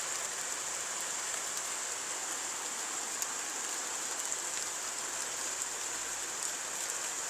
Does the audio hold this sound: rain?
yes